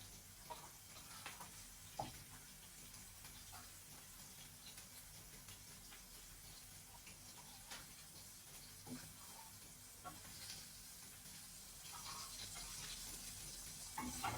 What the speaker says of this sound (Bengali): আর কিছু মাছ দিয়ে দেবো ভাজার জন্য।